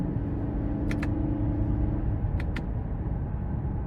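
Cabin of a 2023 Toyota Camry SE on the road, a steady low engine and road rumble filling the interior, with a couple of faint clicks over the continuous drone and no talk.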